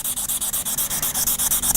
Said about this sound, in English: I don't really want to take any chances, so we continue sanding.